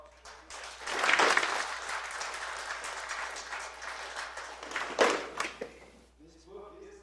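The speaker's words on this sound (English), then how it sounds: "We have a round of applause." At a gallery book talk on grasses, the audience breaks into applause that swells quickly, stays as a steady patter of many hands, then tapers off as a voice resumes speaking.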